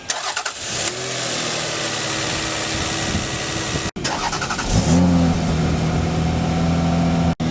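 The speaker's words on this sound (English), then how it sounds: "We're going to start the car." A car engine cranks and starts, then settles into a steady idle, goes quiet for a moment, and is started again before idling once more during a used-car mechanical inspection.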